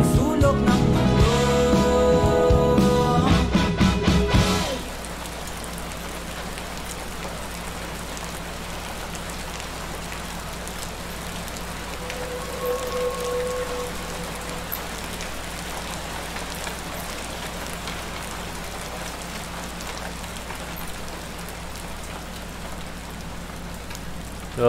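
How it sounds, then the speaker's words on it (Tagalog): Steady rain falls across a surface, a soft even hiss lasting throughout after a louder burst of music and noise at the start. "tumila na ulan sa wakas"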